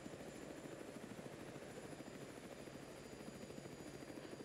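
Mi-24 Hind attack helicopter in the Arma 3 video game, its rotor chop beating in a fast steady pulse with a constant engine whine, loud and continuous throughout with no talk.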